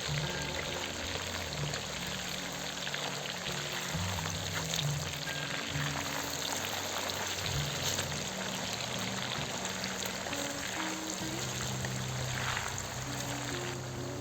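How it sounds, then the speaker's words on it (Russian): A steady, dense sizzle of meat frying on high heat in a pan on an electric stove for Uzbek plov, continuous and even throughout, with no talking. "Мясо жарим пару минут."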